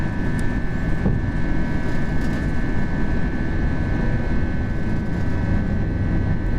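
Continuous loud airliner engine roar from an FSLabs A320 in a flight simulator, climbing out after takeoff from Las Vegas, steady and unbroken throughout with a faint tonal hum above the rumble.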